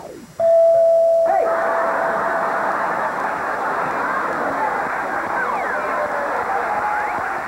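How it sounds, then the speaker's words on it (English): A doorbell chime sounds once with a sustained ringing tone, followed by a steady rumbling, clattering background like a passing train. "The sound of the doorbell."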